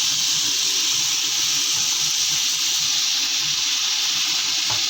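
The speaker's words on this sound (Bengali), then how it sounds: "আর মশলার বাটি ধোয়া জলটা দিয়ে দিলাম" Water from rinsing a bowl of spice paste is poured into a hot pan of fried figs, giving a loud, broad, steady hiss and sizzle close by.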